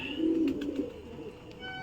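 Pigeons coo softly while being fed grain, a low throaty burble close by with faint pecking clicks and light background noise; no one talks.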